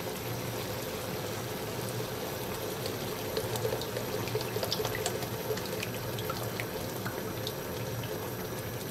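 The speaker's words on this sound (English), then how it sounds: "next what we're gonna add is the coconut milk" Coconut milk pouring into a cooking pot as a soft, continuous liquid splash and gurgle, fairly faint and steady from start to finish.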